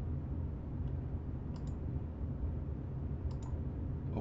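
Two quick double-clicks of a computer mouse, crisp and close, spaced a couple of seconds apart over a steady background hum.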